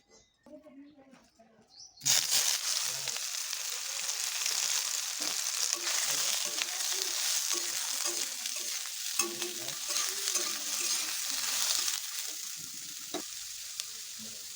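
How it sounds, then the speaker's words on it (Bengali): Soybean chunks hit hot oil in a pan and break into a sudden, steady, close sizzle that carries on with light stirring scrapes. A faint voice is heard just before. "প্রথমে আমি তেলটা দিয়ে সয়াবিনটা ভেজে নেবো"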